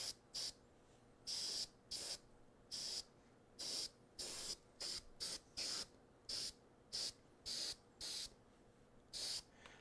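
Airbrush spraying paint in short hissing bursts, roughly sixteen quick sprays of about half a second each separated by brief silences, close and bright with no speech.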